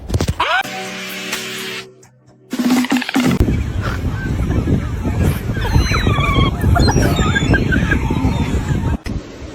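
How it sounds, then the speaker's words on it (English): Chickens cluck and squawk loudly and close by in a busy, continuous jumble of calls, following a short stretch of other sound and a brief pause. "They are my chicken."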